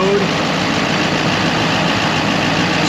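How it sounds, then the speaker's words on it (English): An engine runs at raised high idle, about 850 to 900 RPM, while driving a performance alternator under test, giving a loud, steady, unbroken rumble. "Idle goes up. We're running about 850, 900 RPM."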